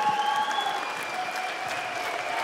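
Sustained audience applause at a fight event honoring female fighters, a steady wash of clapping from a crowd, continuous and moderately loud with no talk over it.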